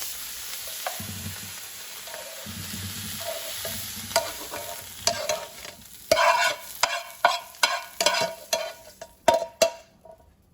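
Brussels sprouts seasoned with black pepper sizzle quietly in a pan. A toss sets off a run of rhythmic scraping and rattling bursts that grow louder toward the end.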